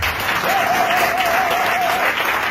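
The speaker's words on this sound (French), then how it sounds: "Et vous allez applaudir ça." Crowd at a political coalition rally in Côte d'Ivoire applauds steadily, a dense continuous roar of clapping at strong level with a faint whistle-like tone running through the middle.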